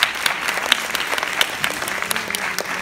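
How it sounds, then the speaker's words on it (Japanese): Loud, close applause from the audience at a Miss Universe Chiba beauty pageant as four finalists stand, with sharp individual claps standing out over a dense, steady patter. "拍手でお願いいたします。"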